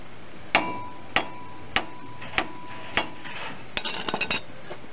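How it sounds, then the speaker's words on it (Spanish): Mallet hammering a car's steering tie rod end to free it: five evenly spaced sharp metallic strikes about half a second apart, then a quick cluster of lighter clinking taps. "vamos a utilizar nuestro mazo y vamos a dar unos golpes"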